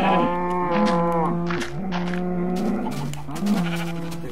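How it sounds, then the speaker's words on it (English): Minecraft sheep bleating in the video game, a run of wavering, nasal baas repeated one after another, loud and close with no talk over them. "And another sheep, but this one's gray."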